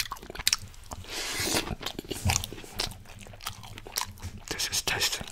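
Close, intimate chewing of Asian macaroni and siomai, with a spoon: repeated soft crunches, wet squishes and bites in an uneven rhythm, loud and near, with no talking.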